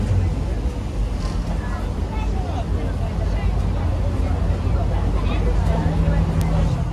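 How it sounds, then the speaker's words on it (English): A motorboat engine drones steadily on the River Thames over rushing water and wind, a continuous low rumble with faint voices in the background. "Whizzing along until you hear him cut the revs back because of the speed limit on the Thames."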